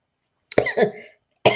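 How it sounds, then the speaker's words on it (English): A close, sharp cough in two quick bursts, followed by a brief pause and a third cough starting. "I think I waited to get home to cough"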